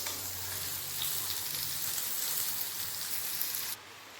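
Pointed gourd (potol) frying in mustard oil in a pan gives a steady, close, hissing sizzle that runs evenly, then drops sharply near the end.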